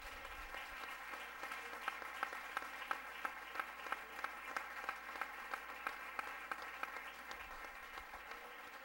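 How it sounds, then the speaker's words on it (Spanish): A church congregation claps for visiting ministers, a fairly faint, continuous patter of many hands with a loose rhythmic pulse running steadily throughout. "queremos darle un aplauso a estos ministros"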